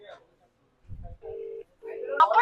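A telephone number is dialed on a keypad, giving a few short, distinct tones with gaps between them. A voice speaks around the tones.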